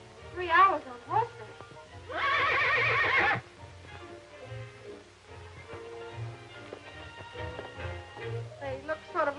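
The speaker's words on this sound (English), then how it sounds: "They're very gentle horses, ma'am." Horses saddled for a mountain ride in an old film give one loud, sustained whinny midway, with soft hoof clip-clops around it while people talk before and after.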